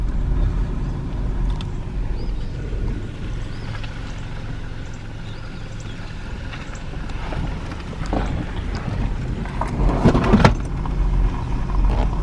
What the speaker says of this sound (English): I'm driving into downtown.